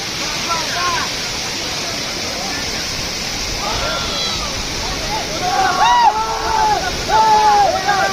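Steady broadband rush of the Sariya waterfall fills the scene throughout, with people talking loudly over it and voices rising near the end.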